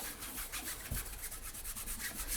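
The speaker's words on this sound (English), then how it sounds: "rub a little shortening onto the workboard" Vegetable shortening is rubbed by hand onto a workboard, giving a soft, close, repeated rubbing and scraping with one small knock partway through.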